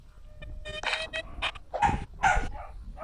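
A dog barks and yips in several sharp, close bursts spaced through a few seconds, fairly loud against a quiet indoor background.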